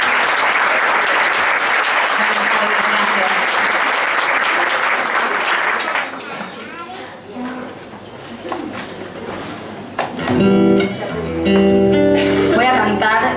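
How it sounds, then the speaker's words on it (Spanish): Loud, sustained applause from a crowd at a live singing performance fills the first half, then fades into scattered sounds before music starts. "Un fuerte aplauso para Gaby."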